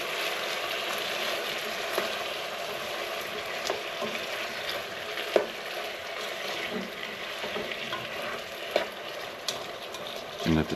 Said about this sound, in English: let the tomatoes simmer in there